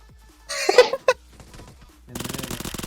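Gunfire in a multiplayer shooter video game, with a couple of sharp close shots early on followed by a rapid machine-gun burst of evenly spaced rounds at the end, with faint voices in between.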